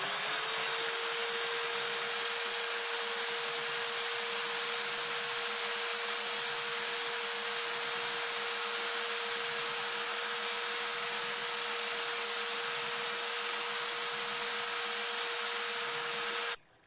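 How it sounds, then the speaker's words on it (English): A steady, continuous sanding hiss as a bone guitar saddle for an Epiphone is worked down to match the fretboard radius, loud and unbroken until it stops abruptly at the end. "And we'll just sand it down to where the radius is."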